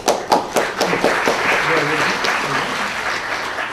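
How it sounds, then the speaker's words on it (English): Audience applause for the final contestant at a Philippine festival pageant, a burst of clapping with a few sharp claps at the start settling into a steady wash of applause, with some voices mixed in. "Everyone give a round of applause."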